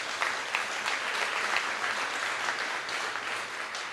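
Sustained applause from a conference audience at a European cities mission event, steady dense clapping filling the room without interruption, fairly close and loud throughout.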